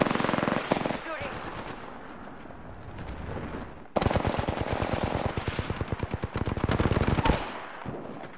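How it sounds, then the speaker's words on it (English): Rapid automatic gunfire in Apex Legends, long bursts of close, loud shots in quick rhythm, with an in-game voice line heard briefly at the start. "Shooting."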